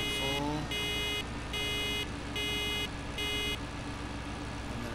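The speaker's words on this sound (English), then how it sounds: "And then it stops beeping when it's done." A farm machine beeping while filling in the video game Farming Simulator 2013, a loud repeating electronic tone in even pulses of about half a second over a constant engine drone, no talk.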